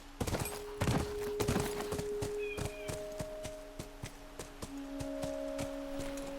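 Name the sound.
horse hooves while riding in the video game The Last of Us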